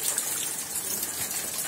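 Rainwater from a rural house roof gushes out of a collection pipe into an underground tank system, making a steady, close, hissing rush that runs unbroken throughout with no voices.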